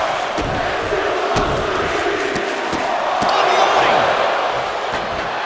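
Arena crowd in the wrestling video game WWE 2K25, a steady roar of cheering and shouting with sharp thuds of ring impacts breaking through, swelling louder toward the middle before settling.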